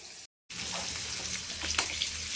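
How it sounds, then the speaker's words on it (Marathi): Bitter gourd frying in a pan gives a steady, close hiss of sizzling oil, broken by a sudden silent gap near the start before the crackle resumes evenly throughout. "तर चला आता तळून घेते"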